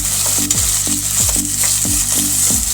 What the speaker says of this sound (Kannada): ಈ ಥರ ಎಣ್ಣೆಗೆ ಚೆನ್ನಾಗಿ ಫ್ರೈ ಮಾಡ್ಕೊಳ್ಳೋಣ